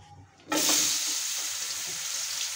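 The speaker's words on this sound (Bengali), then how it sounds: "তো এদিকে আমি সরষের তেলটা দিয়েছি, সাথে পাঁচফোড়ন দিয়েছি।" Panch phoron spices hit hot mustard oil at about half a second, bursting into a loud, steady sizzle that holds on alone after a brief quiet start, for a Bengali mango pickle.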